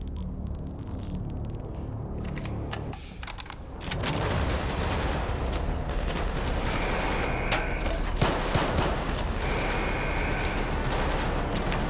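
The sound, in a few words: flashbang in S.T.A.L.K.E.R. video game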